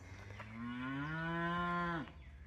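A cow on a mountain hiking trail gives one long, rising moo lasting about a second and a half, fairly close but soft, with quiet outdoor background around it.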